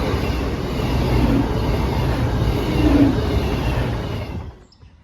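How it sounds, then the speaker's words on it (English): A Voyager passenger train rushes past at close range, a loud sustained roar with wheel rumble that holds steady and then drops away sharply as it clears, no voices over it. "So we've just had a Voyager go through"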